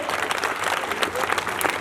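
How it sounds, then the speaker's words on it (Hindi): An audience at a speaking event bursts into loud, dense applause, a continuous close wash of many hands clapping at once, with a voice faintly heard beneath it. "आप लोगों को एक बार तालियां बजनी चाहिए आप सभी के लिए"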